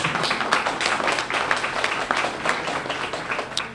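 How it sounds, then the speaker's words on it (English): Audience applause for international guests at a Bermuda health insurance launch event, steady dense clapping from a crowd sustained throughout without pause. "give them a round of applause and welcome them to Bermuda"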